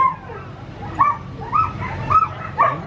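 Sled dogs at a husky dog yard in Alaska giving a few short, close yips and whimpering barks in an uneven rhythm over a quiet background, with faint talk beneath.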